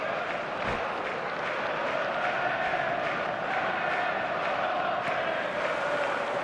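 Stadium crowd at a football match between Man City and Sanfrecce Hiroshima in a video game, a continuous dense roar of cheering and chanting throughout, steady and loud with occasional sharper shouts, no clear talk.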